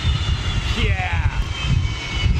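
A jet airliner with Rolls-Royce engines passes with a loud rumbling roar and a rising whine, brief and close, under casual talk.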